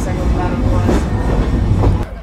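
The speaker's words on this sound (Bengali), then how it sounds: "2 মিনিটের একটা যাত্রা বিরতি দিয়ে আমাদের ট্রেন ছেড়ে দিল পাকশি রেলওয়ে স্টেশন থেকে" The Rupsha Express pulls out of Pakshi railway station, a steady close rumble and rattle of carriages and wheels filling the whole moment.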